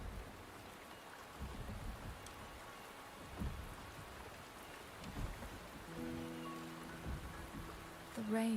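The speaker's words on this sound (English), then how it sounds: "The rain is subsiding" Steady rain patters over a game world in Wuthering Waves, with a few soft, distant thunder rumbles rising through the wash and a brief tonal game sound near the end.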